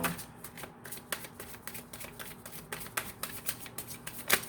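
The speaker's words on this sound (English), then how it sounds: "They're telling me to cut the deck" A deck of playing cards is cut and shuffled close up, a rapid, steady flutter of riffling card edges with a few sharper snaps and a crisp final burst as the cards settle.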